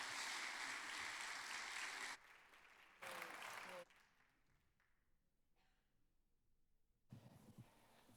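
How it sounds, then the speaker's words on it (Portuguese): Applause for speakers at an auditorium session of an environmental conference, a loud burst of clapping that breaks off, returns briefly, then fades to quiet room noise before clapping rises again at the end. "E solicito uma salva de palmas aqui para os nossos oradores"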